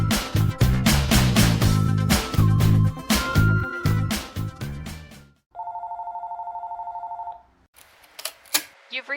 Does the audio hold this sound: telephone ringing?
yes